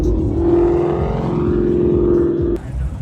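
A supercharged GT spec race car engine with a 3-inch straight-through race exhaust holds a loud, close, steady high-revving drone at a car show before the revs drop sharply near the end.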